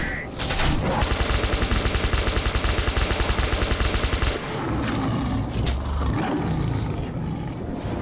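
Rapid automatic gunfire in Metro 2033 Redux, a loud sustained burst of regular shots for several seconds that then breaks off into rumbling, roaring game noise.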